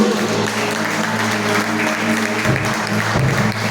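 Steady applause from a church congregation during a service, continuous clapping at an even level throughout, with a low hum underneath.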